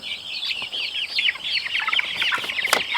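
A young egg-laying chick from McMurray's hatchery on a homestead peeps in quick, high, repeated chirps, close and fairly loud, with a brief sharp knock near the end.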